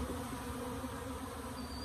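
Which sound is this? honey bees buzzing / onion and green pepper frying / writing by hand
honey bees buzzing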